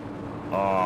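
Race car engine in a sim racing game at Road America, Supercars class, rising to a loud, steady high-revving drone under hard throttle in the second half, with a commentator talking throughout.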